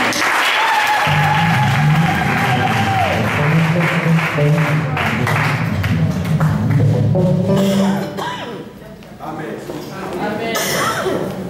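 A church congregation applauds loudly in a dense, sustained clatter of clapping. Voices rise and call out over it, and the noise briefly dips near the end before building again.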